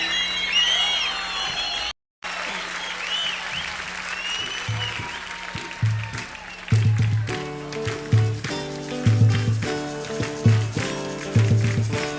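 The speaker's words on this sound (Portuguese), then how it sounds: "batam palmas pra ele, que ele merece" Applause in honour of educators, clapping from a gathered audience that briefly cuts out, then continues as a rhythmic musical accompaniment with a steady beat enters underneath.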